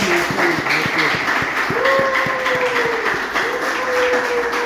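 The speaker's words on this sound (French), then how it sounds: "On l'acclame" An audience at a teachers' gathering applauding loudly and continuously in a dense wash of clapping, with a held tone from a sound system or voice running across part of it.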